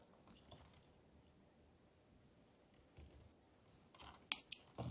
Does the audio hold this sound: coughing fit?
no